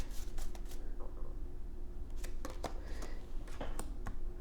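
Tarot cards are shuffled and drawn, giving soft papery riffles and several crisp flicks and snaps at close range, with no voices.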